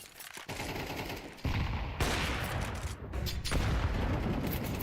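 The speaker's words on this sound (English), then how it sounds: "Big nade, blows the smoke open." Grenade blast in Rainbow Six Siege pro league play, heavy booming bursts amid rapid gunfire, several loud impacts in quick succession over a few seconds, with no talking.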